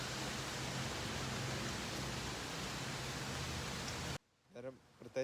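Steady hiss of light rain fills most of the clip, then cuts off abruptly before a few spoken words near the end.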